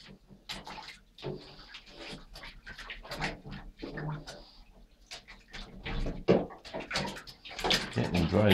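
A bathtub fills from the running tap while a young dog pants, whimpers and shuffles in the water close by, with people talking intermittently over the splashing and running water.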